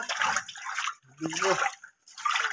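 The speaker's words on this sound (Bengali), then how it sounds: "এই যে পানির মধ্যে ঢেলে দিবেন, দেওয়ার পরে নেড়ে নেবেন" Cattle feed being poured into water and stirred by hand, giving wet sloshing and splashing in three bursts separated by short pauses, with a voice heard briefly between them.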